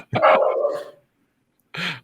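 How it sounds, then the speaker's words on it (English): Dogs bark indoors in two separate bursts, a long loud bark with a trailing yelp followed after a pause by a shorter bark, close to the microphone. "Apparently my dogs think somebody's at the door."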